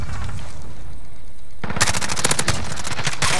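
Light machine gun fire in Call of Duty: Modern Warfare Hardpoint, a rapid loud burst of about a dozen close shots that starts abruptly after a quiet hum and keeps going to the end.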